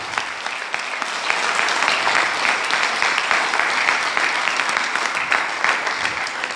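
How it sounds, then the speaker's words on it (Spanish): A church congregation applauds the Lord during a Spanish-language sermon, with sustained, even clapping from many hands at moderate loudness and no talking over it. "Un aplauso al Señor"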